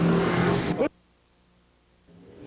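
Stock cars race at Seekonk Speedway in 1995, a loud engine roar that cuts off abruptly, followed by a quiet gap and then faint engine noise returning.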